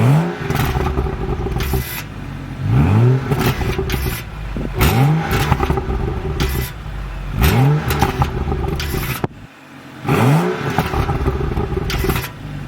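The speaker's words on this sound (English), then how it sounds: "we'll go ahead and rev it for you guys so you guys can see" A BMW 435i with the twin-turbo N54 straight-six revs five times in a steady rhythm, each blip rising sharply then falling back to idle, loud and close, with a fairly restrained note and no talking.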